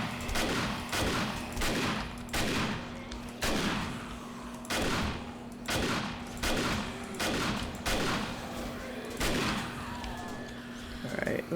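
Shotgun fire in the video game 7 Days to Die: a rapid series of loud, evenly spaced blasts, each with a short decaying tail, running throughout.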